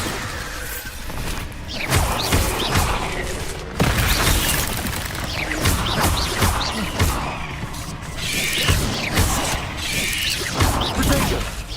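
Bombarda blasting spells in Hogwarts Legacy: loud, repeated explosive bursts and shattering crashes come every couple of seconds over a dense, rumbling game soundscape for nearly twelve seconds.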